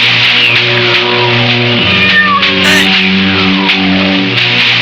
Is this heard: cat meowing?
yes